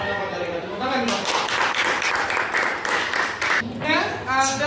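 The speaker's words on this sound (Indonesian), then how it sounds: "Tepuk tangan, Bang." Applause from a classroom audience during a teaching practice session, a burst of noisy clapping of about two seconds rising mid-clip, with a voice talking before and after it.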